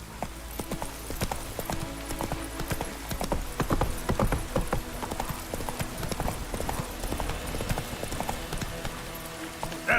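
Roach the horse gallops in The Witcher 3, hooves clip-clopping in a fast steady rhythm that runs nearly unbroken for ten seconds, close and loud, with a brief whinny and faint voices beneath.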